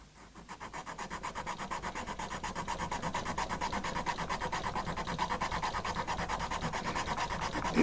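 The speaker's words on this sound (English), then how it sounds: "So I'm just going to sand that off so that it sits in the right place." Steady, rhythmic rasping strokes as the wooden bridge of a Hofner archtop acoustic guitar is sanded, close and continuous with fast regular back-and-forth passes and no talking.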